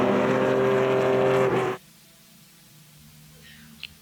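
Vintage race cars, a small Lotus and a more modern Datsun, roar past at Mid-Ohio in an SVRA race, a loud engine blast that cuts off abruptly, leaving faint distant engine drone and a brief click.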